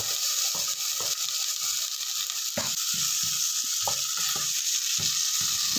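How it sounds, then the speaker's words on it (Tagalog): Onions and tomatoes saute in a pan for a Filipino ginataang mongo, giving a steady close sizzle broken by repeated scraping and clicking stirs of a utensil against the pan. "gisa-gisa lang natin"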